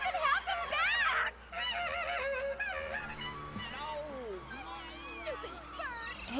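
A bird in the video game Broken Age squawks and honks in loud, harsh bursts near the start, followed by spoken voices with more scattered calls.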